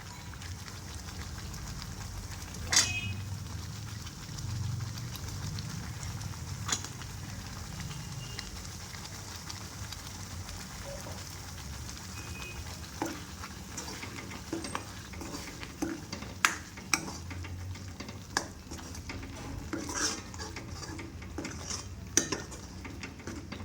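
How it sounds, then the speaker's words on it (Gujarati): Cashews go into a pan and are stirred for a Gujarati cashew curry, giving a steady soft sizzle with scattered clinks and scrapes of a spoon against the pan, growing busier toward the end. "હવે એમાં કાજુ ઉમેરશું."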